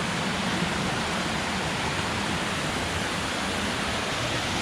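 Steady rushing hiss of a waterfall beside a steep hiking trail in Ricketts Glen State Park, fairly close and unbroken, with no voices over it.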